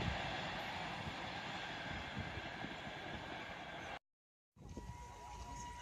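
The Howrah Rajdhani train rolls past with a continuous rushing clatter of wheels and cars, steady throughout, briefly cut by a moment of silence before the rumble resumes.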